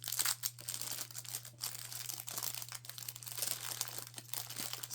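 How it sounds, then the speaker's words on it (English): Crinkly plastic packaging rustles and crackles while faux glitter snow from a dollar store is handled for a craft project, with irregular close bursts over a steady low hum. "Sorry for the crinkling."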